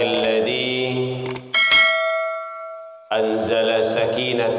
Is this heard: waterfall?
no